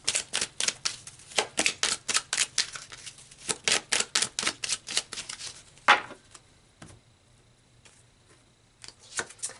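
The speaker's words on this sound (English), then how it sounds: "so let's pull one final card here." A tarot deck is handled and a card drawn: rapid, close flicking and riffling of cards in a steady run, then a few scattered softer card sounds with quiet gaps.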